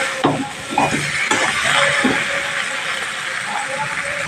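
Water splashed into a hot pan of frying rice and potatoes sets off a loud, steady hiss of steam that stays up close, with a voice briefly heard at the start.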